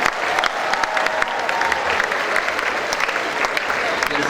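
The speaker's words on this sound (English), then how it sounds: "So please clap for yourself for being here." Theatre audience applauding at the close of a staged Medea production, a dense steady wash of many hands clapping throughout, loud and sustained with scattered voices in the crowd.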